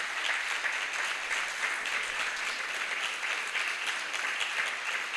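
Sustained audience applause at a health congress, a dense crowd clapping evenly at moderate volume with no breaks, heard from within the hall.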